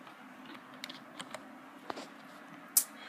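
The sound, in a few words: pressing Windows key and plus on keyboard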